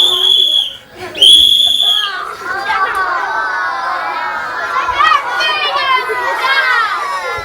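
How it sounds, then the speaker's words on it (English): A whistle blown hard three times in quick succession, shrill and loud at the start, followed by children chattering and playing in a noisy group. "I want you to blow that hard 3 times."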